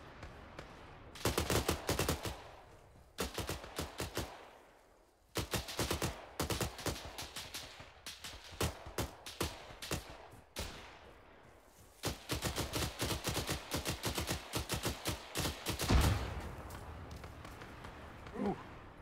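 Dense bursts of automatic gunfire ring out in ArmA 3: rapid, loud volleys of sharp shots separated by brief pauses, with close and distant weapons overlapping across the battle.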